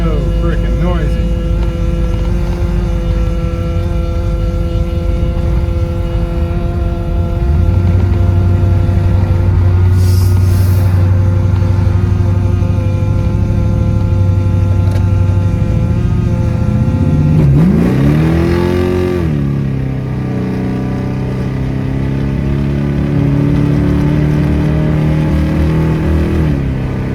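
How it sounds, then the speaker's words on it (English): An idling engine with a noisy fuel pump drones and hums steadily, then revs up and drops back near the end, loud and close throughout. "Man, that fuel pump is so freaking noisy."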